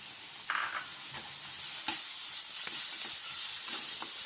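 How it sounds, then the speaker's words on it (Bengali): Small shrimp with turmeric powder frying in a pan, a steady soft sizzle with occasional faint stirring clicks, close and continuous throughout. "এবার এটা ভালো করে একটু ভেজে নেব"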